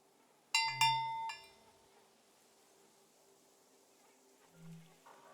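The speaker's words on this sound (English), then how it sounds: "The sound of this bell has a lot of character." A cow bell on a cow farm clangs in a few quick metallic strikes with a ringing tail, followed by quieter low rumbles and faint background ambience.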